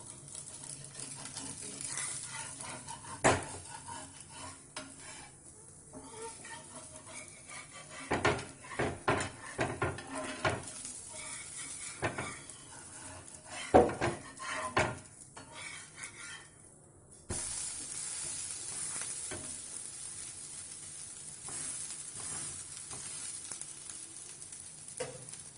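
A moong dal dosa sizzles softly on a hot pan while oil is poured around it and it is flipped, with scattered scrapes and taps of a spatula over a steady low fry.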